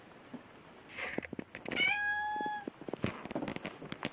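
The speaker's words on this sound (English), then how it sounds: "Cat." A house cat meows, with one clear, drawn-out meow in the middle and shorter calls around it, set among light clicks and knocks of nearby handling.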